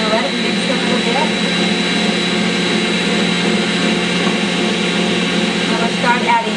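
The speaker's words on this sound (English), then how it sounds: "We're going to let it mix a little bit." An electric mixer churns homemade bread dough with flour in a steady, loud, whirring drone that holds an even pitch throughout.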